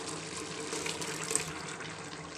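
Water is poured into a cooking pot with rice for chicken biryani, a steady, faint gush running continuously without talk.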